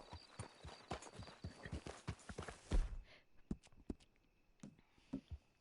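A horse walks in Red Dead Redemption 2, its hooves clopping in a steady close rhythm that turns sparser and quieter partway through.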